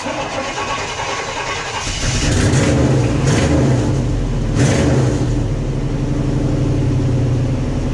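A 1989 Chevy K5 with a 350 5.7L V8, not run in a while and with an exhaust leak, cranks and catches about two seconds in, then settles into a loud, steady, rough idle nearby.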